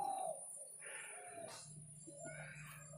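A frightened pigeon, held in the hand, gives soft, faint cooing notes against a quiet background, with no talking.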